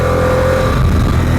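A 2021 Harley-Davidson Pan America Special motorcycle engine held at a steady loud rumble, close by with a deep throbbing drone and no speech over it.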